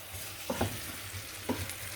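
Potatoes fry in a pan with a steady, close sizzle, broken by a few brief stirring scrapes; no one speaks.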